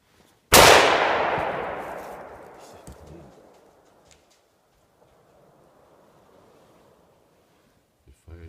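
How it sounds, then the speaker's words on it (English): A Sako rifle fires a single loud, sharp shot close by that rolls off into a long, fading outdoor echo, followed by a few seconds of quiet low rumble. "This rifle fired."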